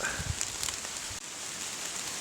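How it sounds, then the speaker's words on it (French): Steady rain pattering on wet woodland while porcini mushrooms are being picked, a continuous soft hiss with a few nearby rustles and low thumps. "je voulais vous montrer avec la pluie et tout"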